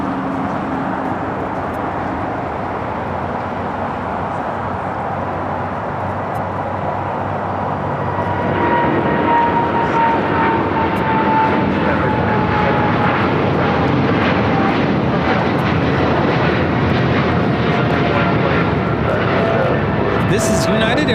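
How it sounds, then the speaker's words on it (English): A United Airlines Boeing 777-200ER on its takeoff roll for Newark gives a loud, sustained jet roar that swells after the first few seconds and holds as a broad rumble, with a voice talking over it. "This is United Airlines 1396 taking off to Newark on the 777-200 ER."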